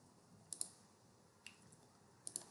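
Several sharp mouse clicks sound in small pairs against a steady low room hum, with no voices.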